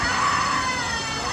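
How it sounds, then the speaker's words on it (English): A person screams in a loud, continuous, high-pitched burst that lasts about a second and a half, with nothing else heard around it. "Who is screaming?"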